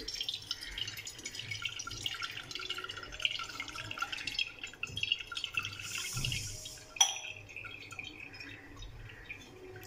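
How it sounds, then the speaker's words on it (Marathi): Plain water poured over freshly strained homemade paneer in a kitchen to rinse it, a soft steady trickle and patter of liquid running through the curds, fairly close, with a brief louder splash near the end and no talk. "आता आपण याच्यावरती साधं पाणी टाकून हे थोडं धुवून घेऊ"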